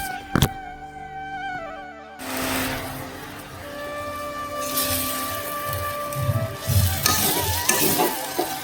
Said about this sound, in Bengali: এখন প্রথমে আলুটা ভাজবো